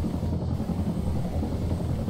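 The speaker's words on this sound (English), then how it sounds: "Set the helicopter down somewhere if you want to just conserve fuel." A military helicopter in flight in the Arma military simulation game gives a steady, loud rotor rumble and whine, continuous and close, with no talk.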